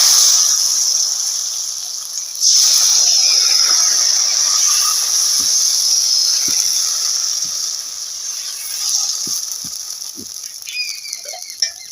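Chakli pitha batter sizzles steadily in a hot oiled wok, a continuous hissing fry with a few soft utensil knocks, close and fairly loud with no talking.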